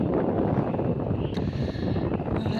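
Steady wind blowing hard across the microphone in the Malnad hills near Koppa, a continuous broadband roar with gusty buffeting and no pauses throughout.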